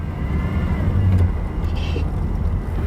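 A 1987 Chevy Monte Carlo SS V8, parked for over twenty years, idles roughly and steadily up close, the engine rumbling low with a brief swell in revs partway through.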